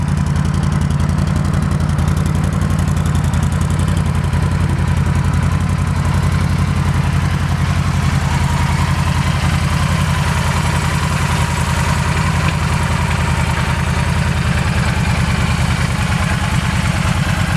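A 2013 Yamaha V Star 1300 Tourer motorcycle with a stock exhaust and fuel injection idles steadily and close, a loud, even low rumble that holds constant throughout with no other sounds.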